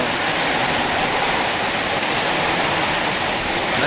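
Steady, dense hiss of high-pressure water spraying onto a car during servicing, loud and close, continuous with no voices.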